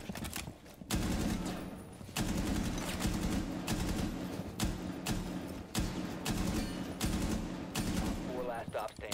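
Loud, rapid video game gunfire crackles in dense bursts throughout, with sharp shots and brief pauses between volleys, up close.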